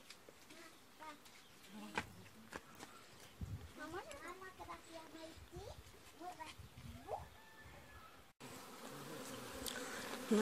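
Honeybees at a home apiary in the evening, gathered on angelica and drinking, give a soft continuous buzz with a fly passing by, while people talk over it and a few clicks and taps sound nearby.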